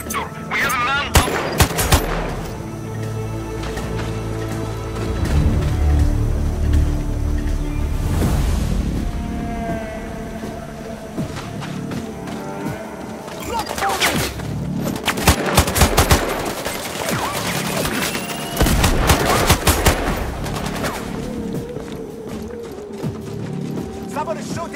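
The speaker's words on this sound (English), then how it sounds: "Someone is shooting nearby!" Gunfire in the 2021 shooter Sniper: Ghost Warrior Contracts 2: loud, dense bursts of rapid shots and mechanical rattles, some sustained and some in short clusters, layered over a continuous rumbling game soundscape.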